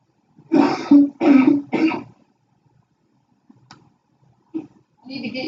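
Three quick, harsh coughs in a row, close by, followed by quiet and a few faint murmurs and a short voice at the end.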